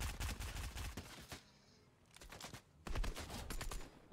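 Fortnite gunfire crackles in rapid automatic bursts, with one dense volley, a short lull of faint shots, then another sustained burst, moderately loud with no voices over it.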